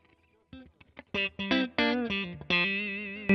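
Fender electric guitar with its pickup selector in position 4, sounded through an effects unit with some distortion: a few soft picked notes, then several loud strummed chords ringing out in close succession, played alone.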